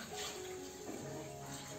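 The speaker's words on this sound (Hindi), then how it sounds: "तो ये मैंने गर्म पानी इसमें डाल दिया है" Hot water being poured into a vessel of curd for churning butter on a winter village morning, a steady watery splash and trickle that runs continuously close by.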